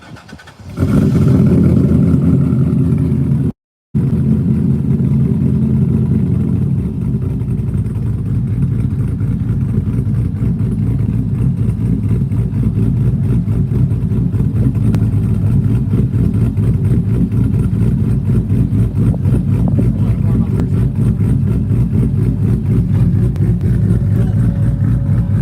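A hot rod engine fires up after a short click and settles into a loud, steady, rumbling idle that continues close by for over twenty seconds.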